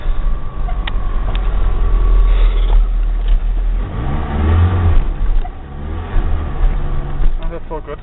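A Ford Ranger pickup drives along after a clutch replacement, its engine droning steadily and rising as it pulls through the gears. The sound is loud and continuous, heard from inside the cab, and someone speaks over it.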